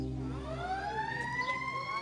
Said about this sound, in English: Sirens. That's a part of the hood.